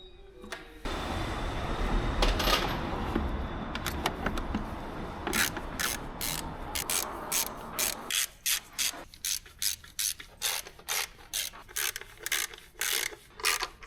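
Bolts on the cylinder head cover of a Mini One R56 are tightened by hand. A rasping rub opens the clip, then a run of rhythmic ratcheting clicks follows, close and clear with no speech.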